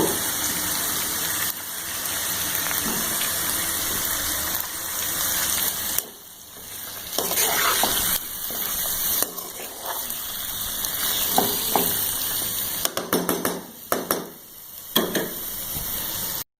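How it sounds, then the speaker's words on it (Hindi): Ginger garlic paste fries in hot oil in a pot while chicken qorma is being cooked, giving a steady close sizzle and spatter that runs throughout, with brief dips and louder bursts of crackle. "अब इसमें डाल देंगे ginger garlic paste 2 tablespoon plus half table spoon. इसको वाइट होने तक पकाएंगे।"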